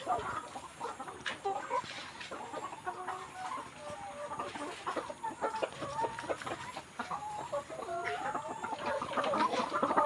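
Layer hens on a poultry farm clucking continuously, many birds close and overlapping in an irregular chatter of short calls, no talk.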